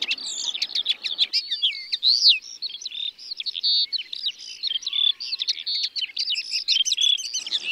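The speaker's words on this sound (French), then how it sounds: "Plus de 40 espèces d'oiseaux sont répertoriées ici" Wild birds of open fields and hedgerows in Brittany, such as skylark, yellowhammer and melodious warbler, sing continuously with rapid overlapping chirps, trills and whistles, close and lively throughout.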